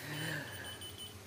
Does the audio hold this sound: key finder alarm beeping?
yes